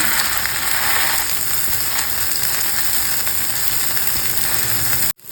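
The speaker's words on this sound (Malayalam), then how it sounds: "അടുത്തൊരു സാൻഡ്വിച്ച് കൂടി നമുക്കൊന്ന് ടോസ്റ്റ് ചെയ്തെടുക്കാം." Bread sandwich toasting in a pan gives a steady, loud sizzle and crackle throughout, stopping abruptly near the end.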